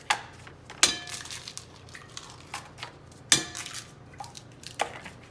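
Eggs cracked one after another into a bowl for an omelette, giving sharp close taps and crunches of shell followed by soft wet drips, with a few quieter clinks between the louder cracks.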